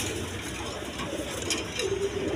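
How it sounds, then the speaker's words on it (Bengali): German seal pigeons stir and coo amid a steady background hum, with someone talking close by through most of the moment. "জার্মান সিল কবুতর সবচেয়ে ছটপট করে"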